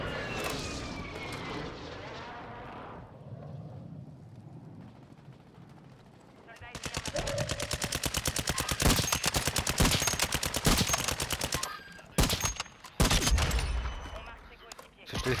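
Rapid bursts of automatic gunfire from a Warzone 2 match crackle loud and close in quick volleys with brief gaps, mixed with mechanical and aircraft-like noise, as players talk excitedly over the shooting.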